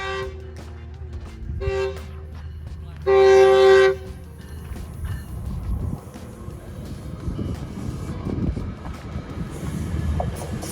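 A train passes close to a hiking trail in Acton and sounds a few short horn toots, then one long loud blast. Heavy rumbling and clattering rail noise continues as the cars roll by.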